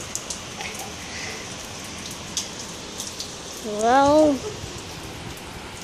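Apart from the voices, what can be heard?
rain falling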